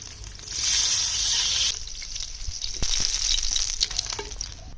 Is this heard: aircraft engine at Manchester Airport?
no